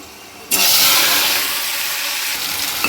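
Chopped onions hit hot oil with browned garlic for Gujarati onion curry, bursting into a loud sudden sizzle that then settles into a steady frying hiss, close and with no voices.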